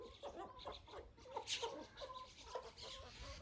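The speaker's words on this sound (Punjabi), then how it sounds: "ਇਹਦੇ ਆਬੂ ਜਾਨ ਜਿਹੜਾ ਕੁਕੜਾਂ ਨੂੰ ਦਾਣੇ ਵਗੈਰਾ ਡਾਲ ਰਹੇ ਨੇ" Chickens at a farm being fed grain, soft clucking and fowl calls coming faint and a little distant in a steady stream, with no talk.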